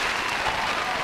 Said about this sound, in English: Can I just real quick just hear an applause button?